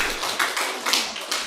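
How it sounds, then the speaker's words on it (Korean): A church congregation gives a short round of applause for the choir conductor during a Sunday sermon, a dense patter of clapping from many hands filling the room for about a second and a half with no talking. "박수 한번 쳐주세요, 우리 지휘자님."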